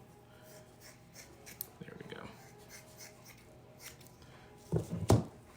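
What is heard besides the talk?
scissors cutting hair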